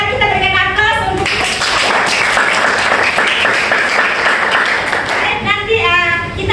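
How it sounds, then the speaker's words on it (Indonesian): Classroom applause from students during a guidance lesson, a dense burst of many hands clapping that runs steadily for about four seconds, with a few voices heard before and after it. "Kalau begitu mari kita berikan aplaus untuk"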